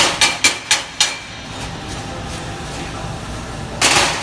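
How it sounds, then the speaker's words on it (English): Four sharp metallic hammer taps in quick succession chip slag off a stick weld, followed by a quiet pause and one more scraping knock near the end. "you want to get some kind of hammer to knock this off."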